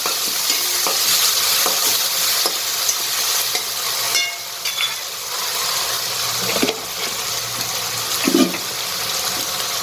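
Onions and tomatoes cook in a pan for a cheese paneer masala bun filling, giving a steady close sizzle and frying hiss with occasional stirring scrapes throughout, and no talking.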